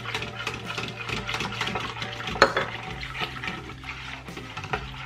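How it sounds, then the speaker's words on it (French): Powdered milk being stirred into milk for homemade yogurt: a steady liquid swishing and scraping in a container, with a few small clinks, continuous at moderate level and close by. "on ajoute le lait en poudre tout en mélangeant"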